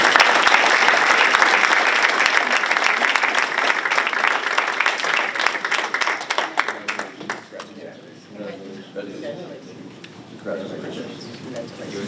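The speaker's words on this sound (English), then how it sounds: "Please give them a round of applause." A crowd at a Board of Education meeting breaks into loud, sustained applause that gradually thins out and fades over several seconds, with faint background murmur as it dies down.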